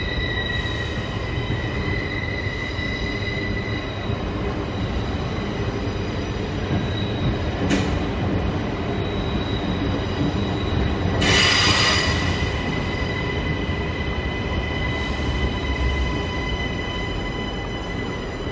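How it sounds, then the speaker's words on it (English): A Queensland Rail passenger train rumbles steadily alongside a platform, wheels squealing in sharp bursts as it slows, with a low continuous hum underneath and no talking. "I see a train coming in on Platform 9"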